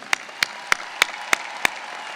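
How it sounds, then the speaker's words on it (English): Graduates are applauded at a spring 2016 business school commencement ceremony: six sharp, evenly spaced claps ring out clearly over a quiet hall, sounding like just a few hands rather than a full crowd. "all of us give a healthy applause to our graduates for being here"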